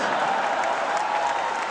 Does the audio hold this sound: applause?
yes